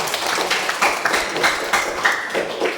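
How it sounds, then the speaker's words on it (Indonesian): A classroom audience claps for group two, a loose, fairly loud patter of many hands lasting the whole stretch with a few sharper individual claps. "tepuk tangan dulu di kelompok dua"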